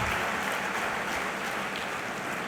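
An audience clapping at a Hindi poetry recital, a dense continuous wash of many hands heard at moderate distance without pause.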